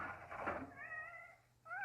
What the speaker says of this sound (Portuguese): Acho que eu tô escutando meu gato.